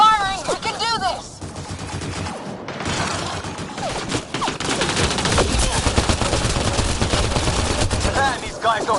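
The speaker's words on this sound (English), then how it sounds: "Just keep firing!" Rapid bursts of automatic gunfire in a video game battle, loud and sustained, with dense overlapping shots, heavy impacts and brief voice fragments mixed in.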